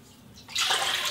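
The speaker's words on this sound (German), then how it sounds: "als allererstes gebt ihr jetzt euer Wasser in die Rührschüssel" Water with yeast dissolved in it poured into the mixing bowl of a Kenwood Cooking Chef Gourmet stand mixer, a sudden close, bright splashing gush that starts halfway through and continues to the end.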